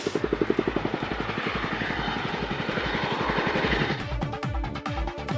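A helicopter fighting a wildfire thunders close by, its rotor chopping in a fast steady beat under a loud engine whine that shifts and roughens toward the end.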